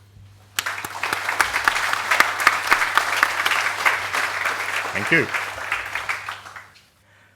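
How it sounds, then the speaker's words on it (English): Seminar audience at an electrical test station event gives a round of applause, steady clapping that swells and then fades out, with a brief spoken thanks near the start. "a big round of applause for the active members"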